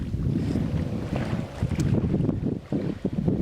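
Gusty wind buffets the microphone with low, uneven rumbling thumps, a continuous blustery roar with no voices.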